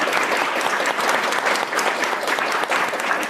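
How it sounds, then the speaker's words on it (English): An audience at an astronomy coding conference applauds the catering staff, a dense, steady burst of clapping filling the room at close range with no voices over it. "We should give them a round of applause."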